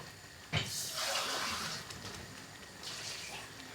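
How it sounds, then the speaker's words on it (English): Water poured into an Indian curry base gravy in a cooking pot: a sudden splash followed by a steady, moderately loud rushing pour that trails off and then briefly surges again. "I'm going to add about 1/4 cup of water to make sure"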